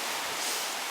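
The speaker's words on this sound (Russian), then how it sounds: "волна мешает, ветер здесь больше. В лесу сейчас тихо и более мягкий шум волны." Sea waves wash onto a sandy beach as wind blows, heard as a brief, dense roar of surf and rushing air with no voices.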